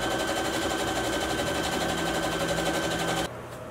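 A sewing machine runs steadily, close and loud, stitching a half-inch seam on a mock-up of a luxury cocoon coat, then stops abruptly near the end, leaving quieter room tone.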